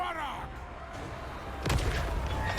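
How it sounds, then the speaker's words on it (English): Cannon artillery fires in the Total War: Warhammer 3 video game, a single sharp boom bursting out near the end over a steady bed of battle ambience, with a rumbling tail afterward. "I like the cannon fire."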